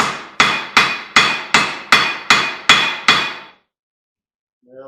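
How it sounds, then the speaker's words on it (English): Eight sharp, ringing hammer strikes on epoxied copper resting on an anvil, evenly spaced and close, each with a short metallic decay, then silence and a brief voice at the end. "put it on the anvil and see what this epoxy does if I whack it one"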